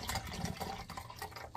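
Water pouring into a cup, a faint gurgling fill with small splashes heard up close and alone.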